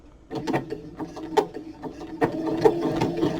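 A Baby Lock sewing machine stitching a fabric pen case at slow speed, with close, uneven mechanical chattering and needle thumps running steadily throughout.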